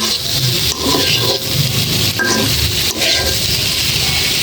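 Chicken and vegetables frying in a pan over low heat, a steady dense sizzle with scraping stirs and rubbing of a spatula, close and continuous throughout.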